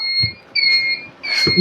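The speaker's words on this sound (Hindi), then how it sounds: "तो जब डोर जब तक खुला तो आप आवाज़ सुन सकते हैं।" A government bus sounds its door-open warning alarm, an electronic beep repeating in long, steady tones with short gaps between them, while faint bumps and footsteps of boarding passengers sound underneath.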